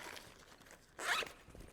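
A tripod bag's zipper is pulled closed in one quick, close, rasping stroke lasting about a quarter second, with quiet room tone before and after.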